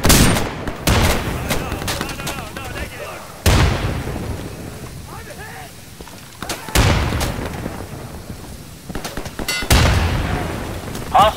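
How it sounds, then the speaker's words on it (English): Gunfire and a flashbang grenade go off in Insurgency on the Embassy map, with an M16A4 in play: four loud, sharp blasts land a few seconds apart, each trailing into a rumbling decay, amid scattered shots and shouting voices. "Here comes a flashbang!"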